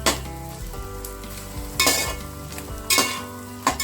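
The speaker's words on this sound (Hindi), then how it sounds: "ये हमारी गोंद फ्राई हो चुकी है। देखिए कितनी अच्छे से एकदम लावा फूटा है।" Edible gum (gond) fries and puffs up in hot oil in a pan with a steady crackling sizzle. Several sharp scraping stirs of a utensil against the pan cut through it.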